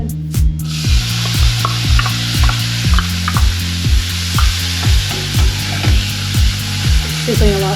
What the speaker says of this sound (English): sizzling a lot because the corn is cold from being in the freezer